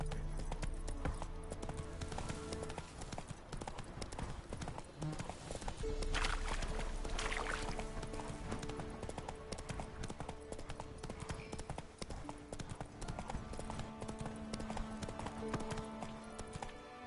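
Horse hooves clip-clop at a steady walking rhythm as a rider travels in the video game Witcher 3, with sustained game music running underneath the whole time.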